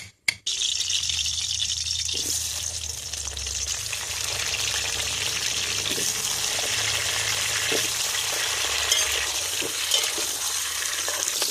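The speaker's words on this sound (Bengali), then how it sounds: "আলুটা এদিকে আমার ভাজা হচ্ছে" Steady hiss of potatoes frying in oil, continuous and fairly loud, with occasional faint clinks and no talking.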